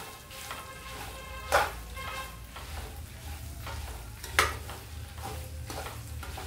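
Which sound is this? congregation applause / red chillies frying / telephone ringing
red chillies frying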